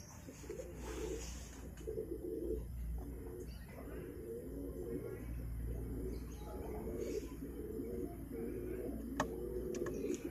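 Ornamental pigeons coo repeatedly in low, rolling phrases at a hobbyist gathering, with occasional faint chirps of other birds and ticks in the background, fairly close and continuous.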